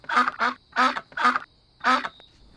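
A voice imitates a duck, giving five nasal quacks in quick, uneven succession, loud and close, with short pauses between them.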